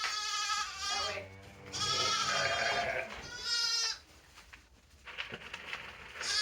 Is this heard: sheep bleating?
yes